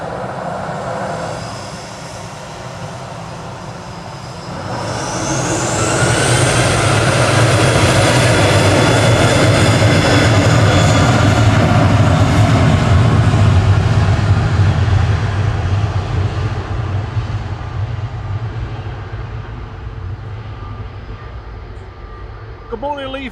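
A Ryanair Boeing 737-800 departs Manchester Airport, its jet engines swelling from a distant rumble to a loud sustained roar that slowly fades as it climbs away.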